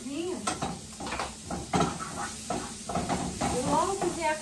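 Butter sizzles in a heated pan in a home kitchen, a steady frying hiss broken by repeated scraping and stirring clinks of a utensil against the pan, while someone talks over it.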